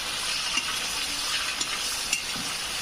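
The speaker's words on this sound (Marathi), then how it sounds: "कांदा वगैरे व्यवस्थित झालाय तर भाजी टाकून घेते" Kunjara wild greens fry with onions in a pan, making a steady soft sizzle with a few light stirring knocks and no talking.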